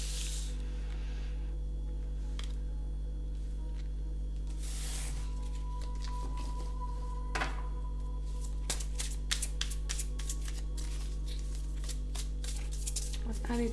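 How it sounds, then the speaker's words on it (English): Tarot cards rustle, slide and snap against one another as they are handled and laid aside on a table, with a cluster of quick crisp flicks toward the end over a steady low hum. "I'm gonna put these cards on a side. I want to keep them on a table."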